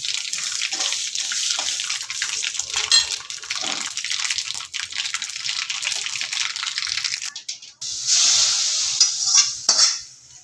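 Oil tempering with cumin and chili in a pan, a bright continuous sizzle and crackle close up, briefly dropping out then flaring louder as more goes in, with stirring and light talk around it.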